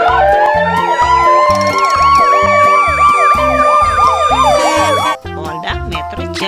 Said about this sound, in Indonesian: Wah, ada ambulans hospital.